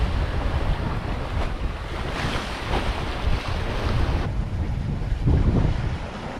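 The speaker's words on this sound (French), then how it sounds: "on a marché avec un vent jamais plus fort que 22 nœuds, mais une mer très forte, très formée" Strong wind roars across the microphone aboard a sailboat in a heavy, well-formed sea, with continuous loud rushing of waves and water against the hull, steady throughout with occasional surges.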